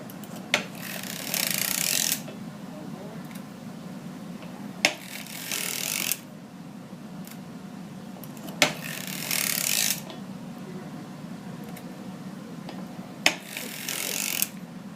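A hand-cranked sock knitting machine works through rows with repeated ratcheting, rasping bursts lasting a second or so each, separated by quieter clicks and pauses, close and clear with no talk.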